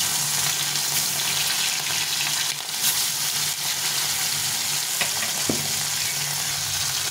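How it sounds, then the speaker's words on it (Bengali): Fish fry in hot white oil, giving a loud, dense, continuous sizzle and crackle close by with a few brief pops and no talking. "এই তেলটা গরম হয়ে গেছে, আমি এখানে সাদা তেল দিয়েছি মাছ ভাজার জন্য। তো মাছগুলো ছেড়ে দিলাম।"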